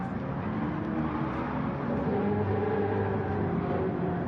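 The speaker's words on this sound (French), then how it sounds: "Un petit drift de la part de Dragon." A race car drifting around the Nordschleife in a racing video game gives a steady, loud engine drone with a broad tire-and-road roar that holds throughout, with no speech over it.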